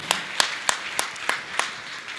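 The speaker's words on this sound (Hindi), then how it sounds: "और मैं चाहूंगा आप इनके सम्मान में जोरदार ताली बजाकर इनका" Audience clapping at a ceremony in Gunayatan, Shikharji, Jharkhand, heard as six sharp, evenly spaced claps in a steady beat, fairly faint and with no talk.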